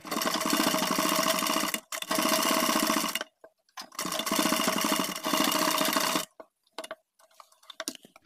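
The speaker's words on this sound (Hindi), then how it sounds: "यहाँ पर एक पैर से ज़्यादा की सिलाई लगानी है आपको" A sewing machine stitching a zip onto a pajama side pocket runs in two long buzzing bursts with a short gap between them, then stops and leaves a few soft clicks and handling noises.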